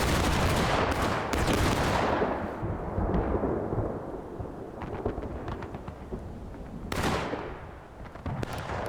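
Musket volleys boom in War of Rights, a 1776 event public match: loud, crashing massed shots at the start and again near the end, each trailing into a long rolling echo and scattered distant gunfire.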